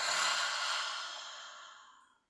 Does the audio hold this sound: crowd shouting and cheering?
no